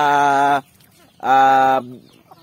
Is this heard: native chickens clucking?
yes